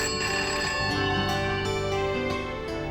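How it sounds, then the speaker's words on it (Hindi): A home telephone rings with a bright, repeating electronic ringtone, loud and close, pulsing steadily over three seconds with no voices. "कोई फोन क्यों नहीं उठा रहा है घर में?"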